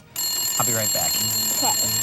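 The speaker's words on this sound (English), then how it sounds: "Oh, that's the phone." A telephone rings steadily indoors while someone speaks over it, its bright tone holding through the whole stretch.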